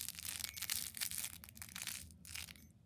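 A squishy bunny toy being mushed and squeezed in the hand, soft crinkly crushing and squelching sounds in quick irregular bursts, close but quiet, fading out at the end.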